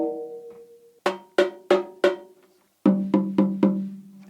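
A Gretsch Brooklyn hammered chrome over brass snare, 14 by 6.5 inches, with a clear Remo CS head taped up, tapped repeatedly at the rim area during tuning: a ringing tone, then bursts of short, bright, resonant strikes in two quick groups.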